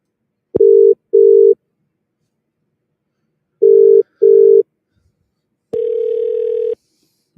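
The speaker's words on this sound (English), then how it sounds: "Ringing." An outgoing telephone call rings through the earpiece, two pairs of steady double-burst ringback tones separated by silence, followed by a longer single tone, heard alone without talk.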